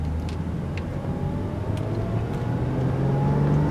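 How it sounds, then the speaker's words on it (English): A 2000 Mercedes-Benz C240 C-Class drives smoothly on a test drive, its engine and road noise a steady interior hum that rises slightly toward the end, with faint clicks and no talking. "we'll just take this C-Class for a quick test drive just to show you that everything works"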